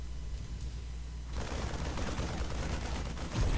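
Rapid bursts of gunfire in a StarCraft II Heart of the Swarm match, Terran versus Protoss, erupting into a continuous crackling barrage that stays dense and fairly quiet to the end, with no talk over it.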